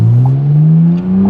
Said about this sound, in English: you can really hear the engine scream, the straight six